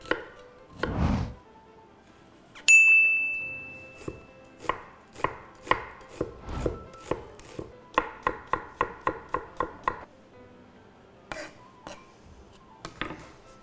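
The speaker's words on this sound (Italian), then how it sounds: "partendo dalla cipolla che vado ad affettare, anzi a tritare abbastanza finemente" A knife finely chops an onion on a board in irregular taps, then a quick, steady run of even strikes; close, clear, with a single bright clink near the start.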